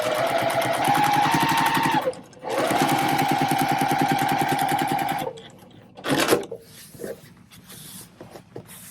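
A sewing machine stitches Dresden quilt blocks together in loud, rapid mechanical runs, pausing briefly around two seconds, then stopping after about five seconds and leaving quieter handling noises and a few soft clicks.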